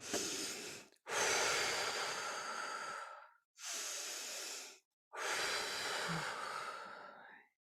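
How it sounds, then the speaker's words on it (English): Slow breaths drawn and released during a guided breath-work session, three long airy exhales separated by short silent pauses, close and steady with no talking. "And just breathing all that air out."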